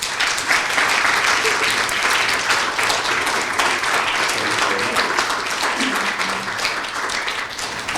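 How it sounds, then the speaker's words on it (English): Audience giving the panelists a round of applause at a university panel, dense and continuous clapping at steady loudness throughout, with no speech on top. "another round of applause for our panelists"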